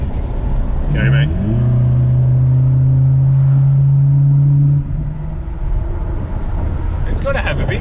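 A turbocharged Suzuki Vitara accelerates hard on a test drive, its engine rising in a loud, droning pitch inside the cabin before easing off, with people talking over it.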